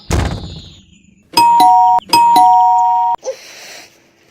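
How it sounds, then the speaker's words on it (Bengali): An electric doorbell rings indoors with two loud, sustained electronic chimes back to back, each a clear tonal ding-dong, followed by a brief soft thud. "এই দুপুরবেলা কে আবার কলিং বেল বাজাচ্ছে?"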